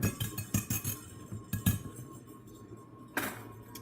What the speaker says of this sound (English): I am going to whisk that together with a whisk